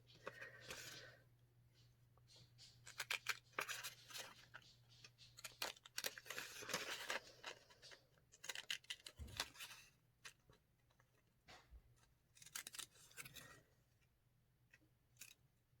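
Scissors snip through paper while cutting out a rosette shape, heard as quiet, close, irregular clusters of crisp cuts with pauses between them over a low steady hum.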